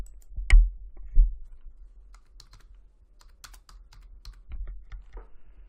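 Typing a section title on a computer keyboard produces a couple of heavier key thumps, then a scattered run of light, close clicks with short pauses between them.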